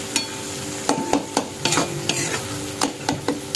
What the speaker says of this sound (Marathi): तर आता हे मस्त परतून घेऊया